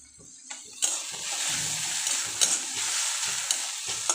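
A paneer and soybean filling cooks on a hot tawa, a steady bright sizzle with repeated scraping stirs every second or so, close and fairly loud, with no talking.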